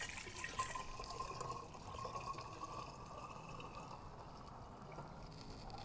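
About three liters of water pouring into a container, a soft steady trickle and slosh that stays faint and fairly even throughout, in a garden setting.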